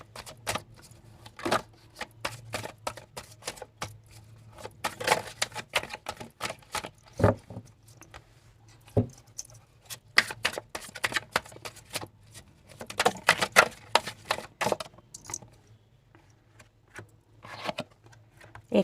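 Oracle cards are drawn and handled from a deck, producing soft irregular flicks, taps and shuffling clicks, close and quiet, with short pauses between bursts.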